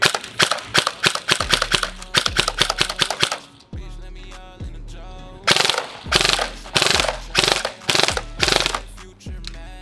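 A stock Samurai Edge Avalon airsoft pistol fires in a steady run of sharp, loud, close shots, with a brief pause before more shots at a slightly slower, uneven pace.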